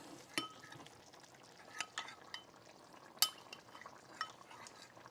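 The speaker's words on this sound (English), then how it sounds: "Now I'll give this a stir." Cornstarch mixture stirred in a pot, faint soft scraping with a few sharp clinks of a utensil against the rim, quiet and close, no talking.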